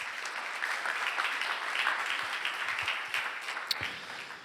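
A church congregation applauds during a Sunday morning worship celebration: a dense, steady wash of many hands clapping together, sustained and fairly loud throughout, with no voices standing out.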